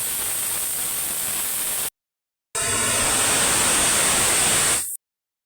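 Steam rushes out of a pressure cooker as a loud, steady close hiss in two long bursts separated by a short silent gap.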